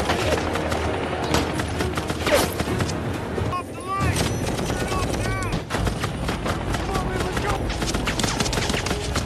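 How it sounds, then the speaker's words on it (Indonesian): Rapid bursts of gunfire from a helicopter in a film crackle continuously, with a voice talking over the shots. "salah satu penumpang helikopter tersebut langsung menembaki Thomas dan Fred dengan sangat brutal."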